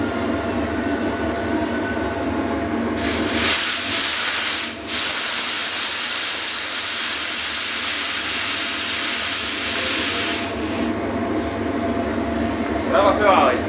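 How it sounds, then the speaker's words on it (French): Steam from a steam boiler at about 2.5 bar hisses loudly and steadily in a broad rush, surging for several seconds before settling back to a lower continuous hiss. "La vapeur arrive."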